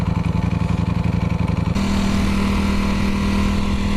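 Ducati Panigale V4 engine under riding, a loud close pulsing growl that shifts into a smoother, higher steady drone partway through, no speech.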